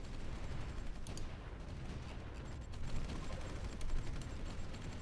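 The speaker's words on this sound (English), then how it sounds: "Oh yeah, there's super heavy fighting going on." Heavy battle noise from the Supreme Ruler 2020 strategy game, with dense gunfire and bombing in a continuous rattling barrage. Sharp bursts and mechanical clatter stay steady and fairly loud throughout, with no voices.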